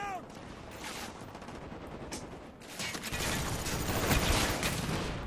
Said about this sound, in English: Those are some of the worst shots I've ever shot in my life